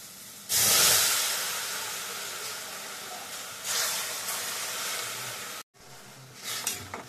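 Water poured into a hot pan of mango pieces bursts into a loud, steady hiss that settles into a long sizzle and breaks off briefly near the end before resuming.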